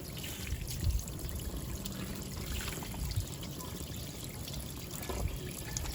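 Tap water runs in a steady, quiet trickle at a sink while hands are washed, faint but continuous with light splashing, and no one talking.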